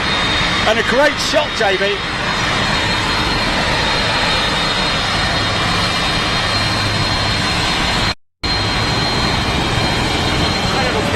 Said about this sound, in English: 747 nearing the channel